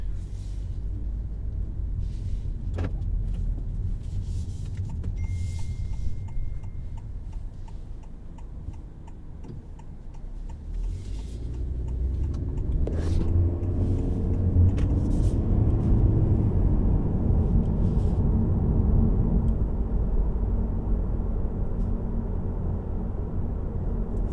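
A 2022 Honda Civic Touring on the road, heard from a quiet cabin: a rhythmic ticking runs through the first half, then a low tire and engine rumble swells and holds steady for the remainder.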